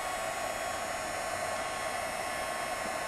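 A heat embossing tool blows steadily over clear embossing powder, melting it on colored brads; a constant, even airy whoosh like a small hair dryer runs close and alone throughout.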